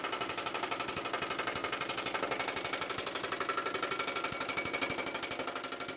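A power hammer pounds a sheet metal panel in a fast, steady, loud rhythmic hammering that keeps an even rate throughout, with no voices.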